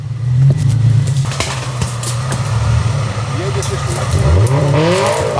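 Supercharged 350 hp Toyota FJ off-road rally car on 35-inch tyres pushes forward on a wooded traverse, its engine a loud sustained low drone with rising revs near the end, people talking over it.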